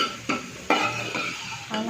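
A spoon scrapes and clinks against a pan while tomatoes are stirred into red lobia chaat, with a few sharp metallic knocks and soft wet mixing between them, close and clear with no talking.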